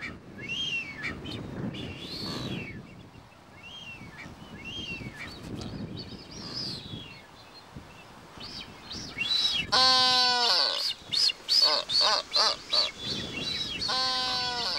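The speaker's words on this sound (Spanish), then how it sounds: "Aves como estos piqueros de patas azules o las que anidaban sobre las rocas" Blue-footed boobies call across a Galápagos colony: scattered whistles and honks early on, then a loud run of rhythmic, repeated honking calls near the end, close and clear.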